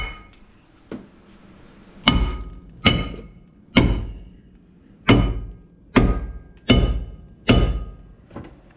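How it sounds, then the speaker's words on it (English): A hammer delivers eight heavy, evenly spaced metallic blows against a seized rear brake rotor on a second-generation Subaru Impreza, each strike ringing briefly before the next, with no talking. "that's when we're gonna grab our trusty dusty hammer"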